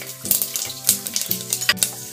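Mustard seeds, cumin, chana dal and fenugreek seeds sizzle and crackle in hot oil for a Maharashtrian varan phal tempering, with a steady close fry broken by sharp popping bursts.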